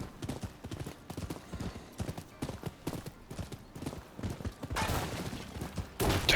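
Horse hooves gallop in a rapid, steady clip-clop rhythm through the Rise of the Ronin game world, the thuds close and loud, with a denser rushing burst near the end.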